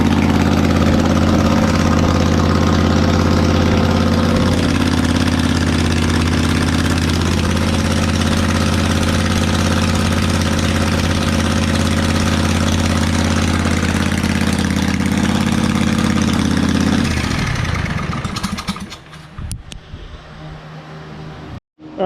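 A Kawasaki FH770D small engine idles with an open header and no muffler, giving a loud, steady, raw throbbing run that holds for about seventeen seconds before cutting off abruptly and sputtering to a stop.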